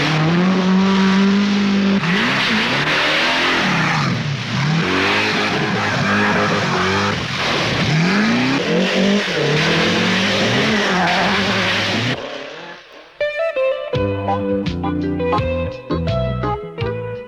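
A Toyota rally car at the Ivory Coast Rally in West Africa races close by, the engine revving up and down through repeated gear changes with tire noise, and music takes over at the end.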